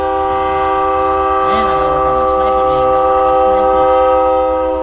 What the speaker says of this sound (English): Sorry about the train. That's super unprofessional.